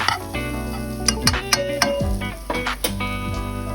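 Butter and flour browning together in a pan for scratch gravy, giving a steady sizzle with scattered clinks and scrapes of stirring against the metal.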